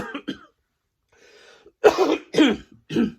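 A person coughs and clears their throat in several short, harsh bursts close to the microphone, with brief silences in between.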